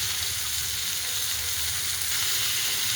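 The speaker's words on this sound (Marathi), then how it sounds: "आता मी तेलामध्ये वांगे स्वच्छ धुवून ठेवलेले टाकून घेते" Washed eggplant pieces fry in hot oil with a steady, dense sizzle that stays loud and constant throughout. No one speaks.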